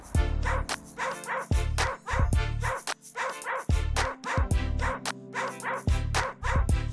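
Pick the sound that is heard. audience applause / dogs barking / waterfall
dogs barking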